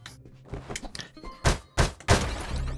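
In the video game UnMetal, a character punches a tree, giving three heavy, close thunks in quick succession over faint game background sound.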